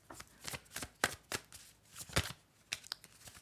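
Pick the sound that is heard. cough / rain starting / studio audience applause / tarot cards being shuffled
tarot cards being shuffled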